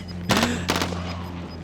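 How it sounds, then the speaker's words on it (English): Bursts of automatic AK47 gunfire from the Cold War weapon in the Warzone video game, two quick loud volleys close together over a steady background hum, with no talking. "Westie decided to try and use his blooming AK47 to kill somebody"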